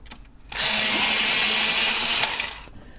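An electric pencil sharpener grinds a pencil point for a colored-pencil drawing, a steady loud whir lasting about two seconds with a brief click at the start and a fade as it stops, no talking.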